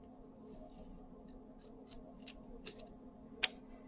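Small scissors cutting a planner sticker: a scattering of faint, light snips and clicks at an uneven pace, close but quiet over a low room hum, ending in a couple of sharper clicks, with no talk.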